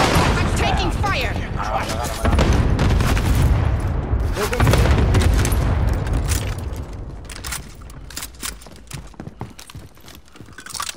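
Gunfire and explosions in a multiplayer shooter video game on a new map, dense overlapping shots and booms at first, thinning into scattered sharp cracks toward the end.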